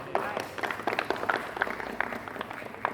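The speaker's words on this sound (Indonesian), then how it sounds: "tepuk tangan buat Roy." A class of students claps hands in a physical education lesson, a brisk, irregular patter of many overlapping claps at moderate distance, fairly soft, with a voice faintly underneath.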